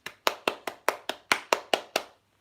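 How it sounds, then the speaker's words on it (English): Nine sharp hand claps in a steady, evenly spaced rhythm, close and crisp, with short decays and silence after the last one. "there, I gave her a clap because that's what she intended"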